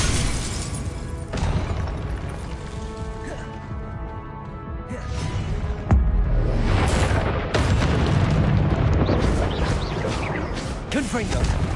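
Confringo fire spell blasts in Hogwarts Legacy combat: repeated booming explosions and crashing debris, loud and dense, with a voice talking over much of the fight.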